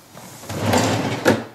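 A drawer holding hamster supplies such as water bottles, food dishes and an aquarium cover slides open or shut indoors, a short close scrape ending in a soft knock.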